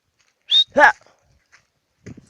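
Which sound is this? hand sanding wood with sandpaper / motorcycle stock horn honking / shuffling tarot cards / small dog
small dog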